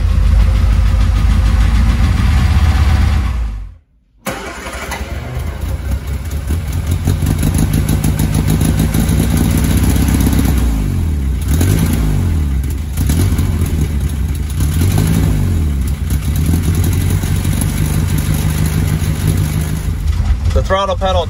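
A Frogeye Sprite found sitting in a barn has a loud, close engine running in a rough, steady idle. The noise breaks off briefly near the start and then settles into an even, rumbling drone.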